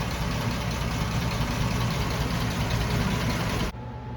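A 1948 American LaFrance 700 Series Junior V12 fire engine idles with a steady, dense rumble, close and constant for several seconds before the sound abruptly drops away.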